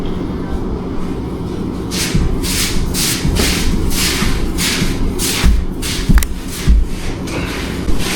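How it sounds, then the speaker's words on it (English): Sumo wrestlers doing suriashi, feet sliding across a sanded dojo floor in Tokyo, with repeated rhythmic scraping rubs and occasional heavy thuds, close and fairly loud. "pay attention to the sound of the feet as they move across this sanded surface"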